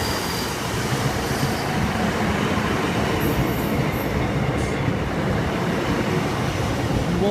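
Class 153 diesel train passing a level crossing at Lowdham, a loud, steady rumble of wheels on rail close by, with a faint high squeal of wheels partway through.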